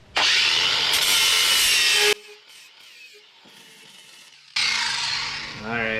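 A handheld grinder scrubs a bare spot for a ground connection on a 1986 Mazda B2000, running in two loud, harsh bursts of about two seconds each, separated by a pause with faint clicks and handling noise.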